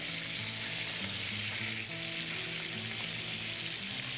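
Shrimp sizzling in a pan with bacon, a constant close, dense frying hiss that holds steady throughout with no voices.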